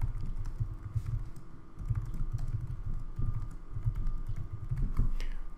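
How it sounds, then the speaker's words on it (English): Quiet typing on a computer keyboard, with a steady stream of soft key clicks in irregular bursts over low background hum and no voices. "we can simply type the message in there"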